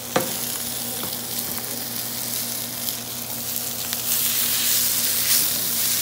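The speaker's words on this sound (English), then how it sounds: "Get the grease hot, because the meat's gonna cook really quick" Thin slices of beef sizzle and crackle steadily in hot grease, with occasional stirring sounds over a continuous bright frying hiss that grows slightly louder toward the end.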